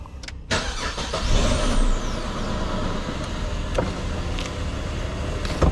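A Ford Falcon FG engine turns over and settles into a steady idle, with a brief crank at the start and a constant running drone afterward.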